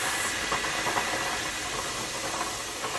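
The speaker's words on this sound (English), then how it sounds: "now that our pot has come to a boil, you can tell by the steam coming out in steady streams" Steam vents in a steady, loud hiss from a pressure canner pot at a boil while chicken stock is being canned, a continuous close rush of air with no pauses and no talking.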